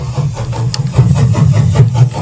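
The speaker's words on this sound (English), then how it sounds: "Okay, so we've got the train track sample." A train runs over railway track in a loud, low rumble, with repeated clacking thumps riding on the drone and no voices.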